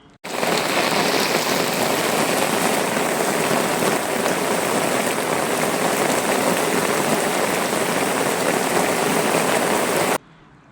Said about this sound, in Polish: kolejna ulewa, fest.